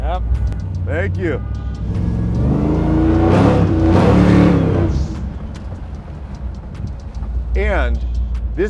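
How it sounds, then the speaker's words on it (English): A supercharged 900HP LSX V8 in a custom 1956 Pontiac Star Chief revs up and settles back while a slipping supercharger belt adds a whine on top, and people talk close by between the revs. "You hear the belt? Yeah, the belt is slipping"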